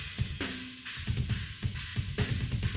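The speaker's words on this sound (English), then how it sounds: "Near ambient mics sound like this." Drum kit heard through near ambience mics, roomy kick, snare and cymbal hits in a steady groove with a washy, reverberant tail, no talking.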